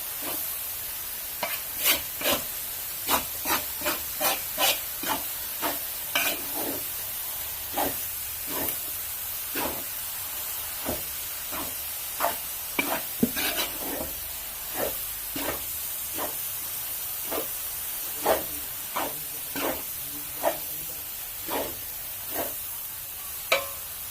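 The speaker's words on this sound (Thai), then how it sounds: "ผัดไปเรื่อยๆจนกว่าหมูจะสุกนะคะ" Pork stir-frying in a pan for chili paste: a steady sizzling hiss runs throughout, broken by regular sharp scrapes and clinks of a spatula, close by and with no talking.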